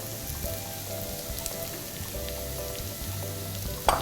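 Onions and sliced straw mushrooms fry in a pan with a steady, close sizzle and crackle, plus faint occasional stirring clinks and a sharper knock near the end.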